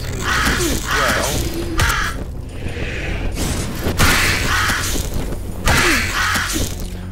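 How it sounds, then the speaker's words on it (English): Many crows caw in repeated harsh bursts, loud and close, with several birds calling over one another amid mechanical clunks and creaks. "There's a whole army of flipping crows."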